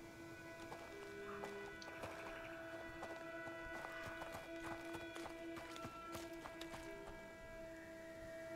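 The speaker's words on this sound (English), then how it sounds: "I can hear footsteps" Footsteps in a medieval stealth game with soldiers searching a house, appearing as a steady run of soft, fairly distant clopping steps over a continuous ambient bed and tonal hum.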